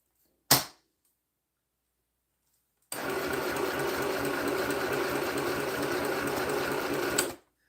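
A sewing machine set to straight stitch runs steadily for about four and a half seconds, a dense even whirr that starts abruptly and stops, preceded by a single sharp click.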